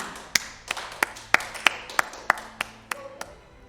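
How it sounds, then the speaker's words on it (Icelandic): Sparse clapping at an Icelandic election-night event, about ten sharp, evenly spaced claps from a small group, close and distinct against a quiet room with a faint tonal hum near the end. "Þannig að við klappa fyrir því."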